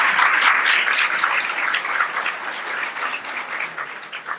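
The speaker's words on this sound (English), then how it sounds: "If we could all just give them all a round of applause" Sustained audience applause at a League of Women Voters event, a dense crowd of clapping hands filling the room, gradually tapering off.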